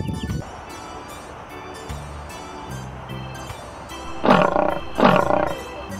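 A lion gives two loud, close roars in quick succession near the end, each swelling and fading, after a stretch of lower rumbling growl and background hiss.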